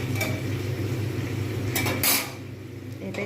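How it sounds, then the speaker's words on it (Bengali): Metal clatter of a lid set onto a cooking pot while potol dorma, a vegetarian pointed-gourd curry with tomatoes and onions, simmers; one brief clink over steady low kitchen noise. "এটাই আমি ঢাকা দিয়ে দেবো"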